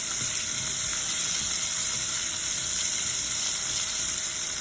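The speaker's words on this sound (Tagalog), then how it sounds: "Pipirito muna po natin ng kaunti bahagya." Carrots and potatoes fry together in hot oil, a steady, even sizzle that holds at a moderate level throughout with no talk over it.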